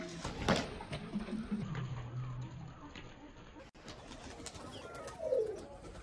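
Pigeons call and coo close by as they are released, with a rustle of movement and faint background noise, a sharper flutter of wings near the end.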